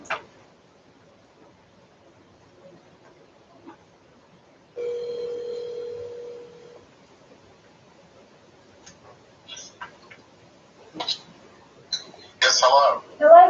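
A speakerphone in a board meeting dials out with faint clicks, then one steady electronic ringing tone sounds for about two seconds, followed by scattered taps and brief bursts of sound.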